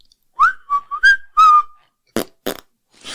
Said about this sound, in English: they heard the shrill whistle of the UFO's engine